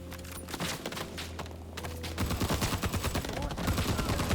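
Rising Storm 2: Vietnam gunfire rattles in dense, rapid bursts of automatic fire, growing heavier and more continuous partway through, with overlapping shots near and far in a chaotic battle.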